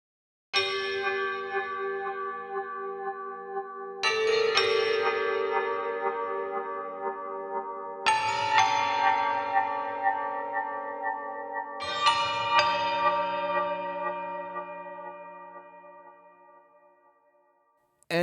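Four long ringing strikes from the bleeding bells preset of BBO Fornax pitched percussion, each bright metallic tone swelling and decaying slowly before the next, the last fading into silence.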